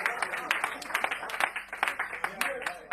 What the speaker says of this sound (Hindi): जोरदार तालियां बजाकर आमंत्रित करिए